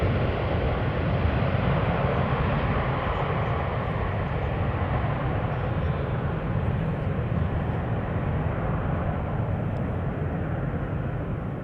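An airliner climbing out after takeoff from Amsterdam Schiphol gives a steady, broad jet roar that stays fairly constant for several seconds, heard from the ground with no talking over it.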